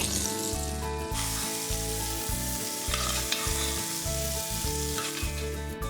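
Steak chunks searing and caramelising in a hot pan for a chunky chilli give a steady, loud sizzle with a rhythmic pulsing pattern underneath, and no voices.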